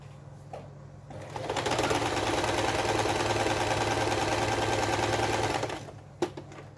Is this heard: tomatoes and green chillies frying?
no